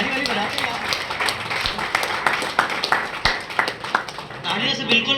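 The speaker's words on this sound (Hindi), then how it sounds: "ताली बजा दीजिए हमारे अतिथियों की, ताली वाली बजा दीजिए।" An audience claps for arriving guests at a Hindi poetry gathering, steady rippling applause with distinct sharp claps standing out, voices audible underneath.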